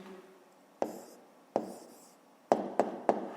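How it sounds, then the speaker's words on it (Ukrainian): Pen or chalk writing down a math answer: five sharp taps and short scratches spaced unevenly over a few seconds, close and quiet, with no talk. "Ну що ж, записуємо тоді відповідь."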